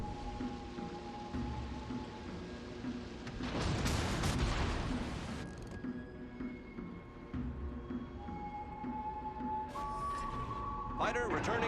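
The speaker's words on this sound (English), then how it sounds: "I just need to finish him in this next salvo, and I win." USS Nevada battleship main-gun salvo in World of Warships Legends, a dense roaring burst of booming fire in the middle, set against continuous game ambience with voices speaking throughout.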